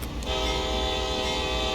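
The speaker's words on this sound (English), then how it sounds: "coal cars, and 2 Dash-8 locomotives at the front, no locomotives at the end" Coal train of 40 loaded cars led by two Dash-8 locomotives in a train simulator, sounding a steady sustained horn blast with rumbling engine and rail noise beneath, continuous and fairly close.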